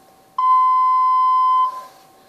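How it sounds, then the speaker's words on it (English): A single loud electronic censor bleep, a pure steady tone lasting just over a second with a clean start and stop, alone against near silence. "this is what I will probably be using now. A bleep."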